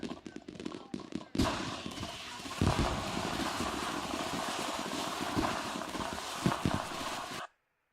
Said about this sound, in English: Hello, watch fireworks. Can we watch them?